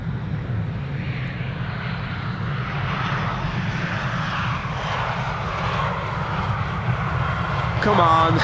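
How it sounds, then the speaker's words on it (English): An Iberia Express airliner arriving from Madrid comes in to land, giving a continuous broad engine roar that swells slowly and grows louder at the end, with someone talking over it. "Let's have a quick look at the landing of Iberia Express then,"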